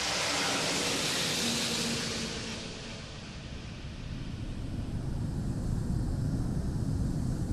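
Antonov An-225 cargo aircraft taking off on the leg from Kuala Lumpur to Perth, a loud, steady broadband jet engine roar that swells and then settles into a continuous rumble throughout.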